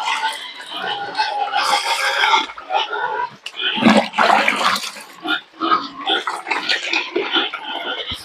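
Pigs at feeding time grunt and squeal continuously at close range, a busy, overlapping chorus of snorts and oinks with brief pauses.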